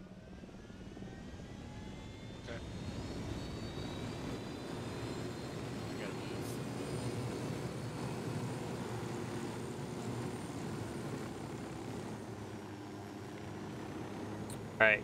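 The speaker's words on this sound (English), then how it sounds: "It's like a rebel helicopter." Rebel helicopter in a video game lifting off, a steady droning engine and rotor roar that holds fairly constant at moderate loudness for the whole stretch, ending with a brief sharp sound.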